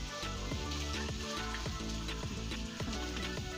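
Chopped capsicum sautéing in a pan for a stuffed chicken bun filling gives a steady, dense sizzle throughout, with a faint background hum and occasional soft stirring touches, no talking.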